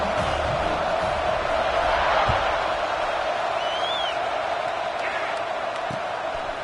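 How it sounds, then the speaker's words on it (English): Football stadium crowd roaring steadily after a touchdown drive, a dense, continuous wall of cheering and whoops that stays loud throughout with a whistle-like rise midway; a commentator's voice runs over it. "this crowd is feeling themselves after that last drive"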